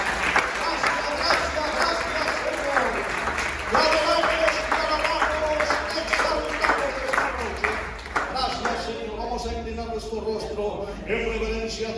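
Church congregation applauding at a Caribbean Christian rally, dense clapping from many hands with music and voices running underneath throughout.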